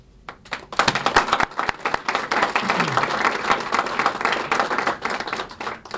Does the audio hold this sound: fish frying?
no